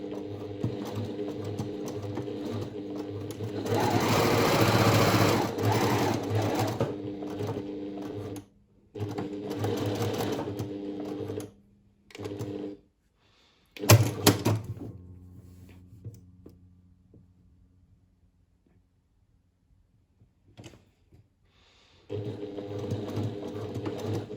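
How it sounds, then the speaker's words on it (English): Sewing machine stitching fabric pieces placed right sides together, running in steady whirring bursts with pauses between seams, close and clear, alone. "I'm going to start at that little dot and back stitch at the start"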